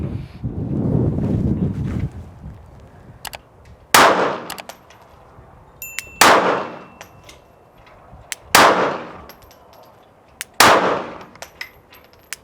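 Four sharp, loud Glock 42 pistol shots firing Blazer Brass and MagTech ammunition, spaced about two seconds apart outdoors, each with a quick decaying tail, after a stretch of low wind rumble.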